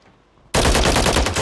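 Loud, sustained automatic gunfire from a Call of Duty match bursts in after a brief quiet lead-in and continues as a dense, rapid rattle to the end.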